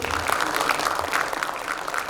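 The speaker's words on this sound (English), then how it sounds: "Can we have a big round of applause for all of them?" Applause from a conference audience, a steady wash of many hands clapping together without pause, moderately loud and filling the room for the whole stretch.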